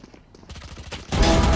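Video game gunfire: a quiet stretch with a few soft pops gives way to a sudden loud burst of dense, continuous shooting close by that fills the last half second.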